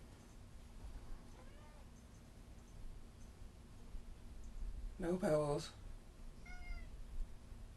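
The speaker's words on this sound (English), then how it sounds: "That's my cat." A hungry pet cat named Pebbles gives one clear, fairly loud meow near the middle, with a couple of fainter mews around it, while a person speaks briefly in a quiet room.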